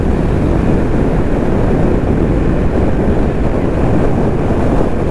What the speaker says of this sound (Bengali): এখন ট্রাই করছি একটু বাইক জোরে চালানোর।